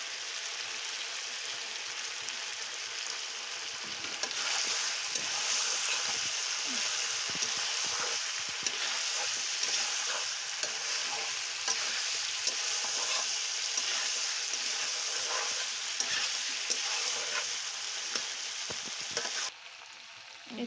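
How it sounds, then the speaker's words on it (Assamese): Ground spices frying and being stirred in a pan, a steady, bright sizzle with soft scraping of stirring running continuously throughout, close and fairly quiet, with a faint voice briefly in the background. "ইয়াতে পিচি লোৱা মছলাখিনি এতিয়া দি দিম ইয়াতে।"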